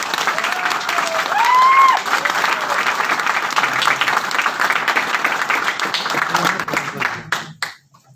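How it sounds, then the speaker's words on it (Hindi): An audience claps loudly for a guest being welcomed at a Winfinith plan seminar, broad steady applause with a few whistles and cheers, lasting several seconds before cutting off abruptly near the end. "जोरदार तालियां"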